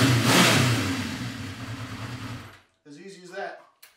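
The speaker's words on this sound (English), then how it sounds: "Bike seems to be running fantastic." A 1980 Honda CB650 Custom motorcycle runs with a loud, even engine idle that throbs steadily before cutting out abruptly, followed by a person speaking briefly.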